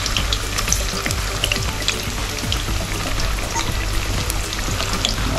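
Lobster and green plantain frying in a pan with oil, a steady close crackling sizzle with scattered pops and spits running continuously without talk.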